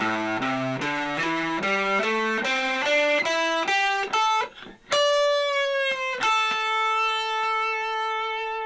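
A distorted electric guitar runs up a quick blues-scale lick, then lands on two long sustained notes ringing out alone.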